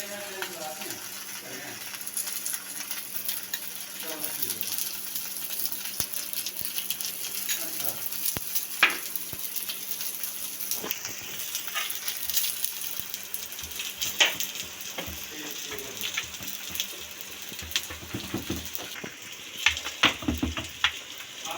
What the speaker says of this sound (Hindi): अब हम इसकी साइड चेंज करते हैं और इधर भी हम लगाते हैं देसी घी।